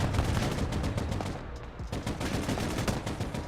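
Sustained video game gunfire crackles through a squad battle, rapid overlapping shots and bursts at steady loudness with a brief thinning midway, no voices.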